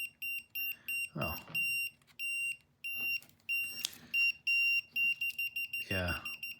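A Wiha tool detector sends out crisp, high electronic beeps that speed up into shorter, quicker pulses toward the end, with a voice breaking in briefly.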